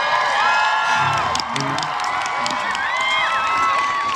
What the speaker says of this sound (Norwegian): Så kan vi gi dere en god applaus.